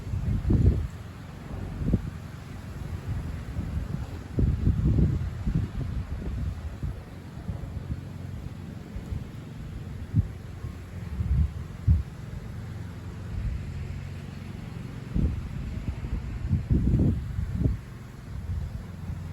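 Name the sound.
wind blowing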